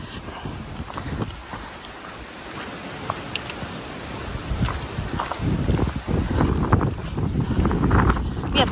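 Gusty wind rushes and buffets the microphone on an Appalachian Trail section in Shenandoah National Park, a continuous loud roar that swells and eases with a few faint footsteps or knocks.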